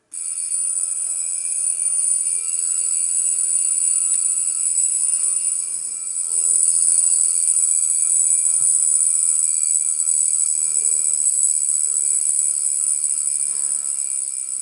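A Jaeger-LeCoultre Memovox Polaris mechanical watch alarm buzzes continuously for the whole stretch, a bright, steady metallic drone at close range with no pauses.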